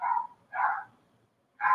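A pet dog barks three times in short, sharp bursts with pauses between, close and fairly loud indoors, with no talking over it.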